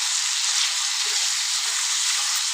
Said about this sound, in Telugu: ఇప్పుడు ఇవి కూడా అన్నీ మంచిగా ఆయిల్లో ఫ్రై చేసుకుందాం